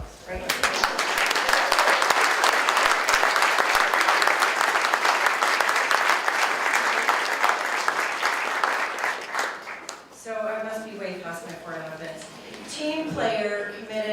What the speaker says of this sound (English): I think you should all applaud yourselves